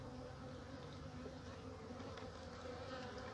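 A low, steady buzz of many honey bees hums continuously inside a hive, a dense, quiet drone heard up close.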